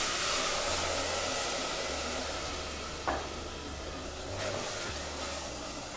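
Risotto rice sizzles in a pan as wine cooks off over a raised flame, a steady, close hiss with one sharp clink partway through.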